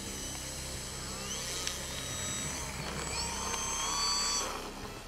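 A radio-controlled Veloxity 3D plane flies at a distance, its small electric motor producing a steady high whine that rises and falls in pitch as it maneuvers, fairly faint over background hum.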